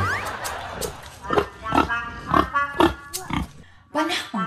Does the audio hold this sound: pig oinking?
yes